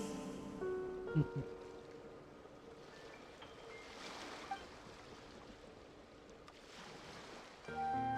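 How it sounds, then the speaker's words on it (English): Ocean waves wash in Genshin Impact, a soft continuous surf and wind-like rush at low volume, with a few faint chime-like tones and small knocks scattered over it. "Go to where you can hear the sound of the waves."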